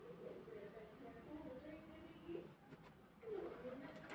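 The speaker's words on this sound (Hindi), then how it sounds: "ये देखें कबूतर अच्छे से अच्छा कबूतर है, कालसरा" A black Kalsara pigeon coos softly in a few low, rounded bursts, faint and close, with someone talking over it.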